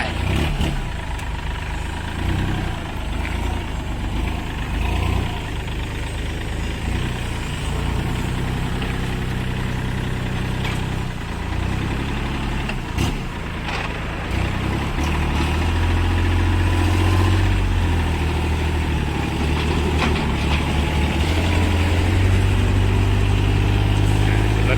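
A Kubota L3408 three-cylinder direct-injection diesel tractor engine idling, a steady low chugging rumble held close and continuous, growing slightly heavier and louder in the later part, with no talk over it.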